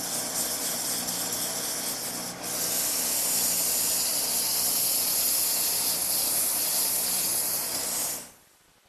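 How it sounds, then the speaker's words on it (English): Sandpaper in a range of grits rubs against a wooden table leg spinning on a lathe, producing a steady, close hissing rasp that brightens after a brief dip and then stops abruptly. "by increasing the speed of the lathe a little bit more and using a variety of different grits of sandpaper, I'll smooth it all out."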